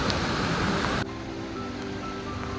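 Kalu waterfall in full monsoon flow, a dense continuous roar of rushing water, loud and close, dropping slightly in level after the first second but staying steady throughout.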